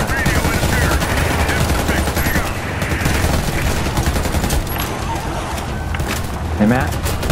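Rapid bursts of automatic gunfire from the shooter game Warface crackle loudly and almost continuously, layered with in-game effects, while someone talks over the action.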